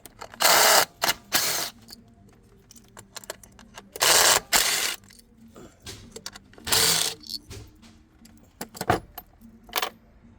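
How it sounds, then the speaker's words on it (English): A 10 mm wrench ratcheting bolts off the engine of a 2020 Infiniti QX50, loud close bursts of rapid clicking in several separate runs with quieter tool handling between, no speech. "Now let's take the 10 mil, remove these bolts."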